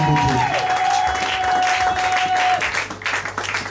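At a church service, a congregation welcomes the reverend pastor with strong, sustained applause and some crowd noise, loud and steady, easing toward the end.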